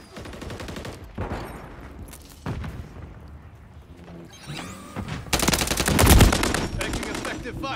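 Gunfire in Call of Duty Modern Warfare 3 beta gameplay on PS5: scattered shots early, then a loud rapid automatic burst near the end, with game noise in between.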